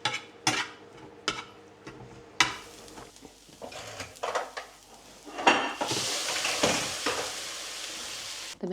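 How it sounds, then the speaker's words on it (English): Mince and rice fry in a pan, a soft sizzle broken by sharp clacks and scrapes of a utensil against the pan, then a louder, steadier hiss of frying toward the end, with no voices. "I just pop it in the pan with the mince, just to extra defrost"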